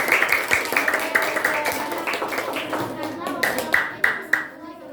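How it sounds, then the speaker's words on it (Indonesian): A classroom of students claps for a group presentation, a quick burst of fairly close claps that thins out into a few scattered hand claps, with voices murmuring underneath. "Sekali lagi tepuk tangan."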